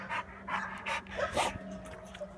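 An American Staffordshire bully dog pants in quick, breathy bursts close by, with a few soft vocal catches mixed in over a faint steady hum.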